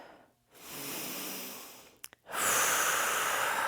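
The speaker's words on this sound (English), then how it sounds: "Take a deep inhale here." A deep yogic inhale through the nose, a long steady rushing breath close to the mic, then a brief catch and a stronger, louder breath following.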